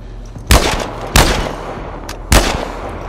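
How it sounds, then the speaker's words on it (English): Pump shotgun blasts in The Last of Us Part 1, three loud, sharp booming shots spaced about a second apart, each with a short decaying tail, and no talk over them. "Pump shotgun."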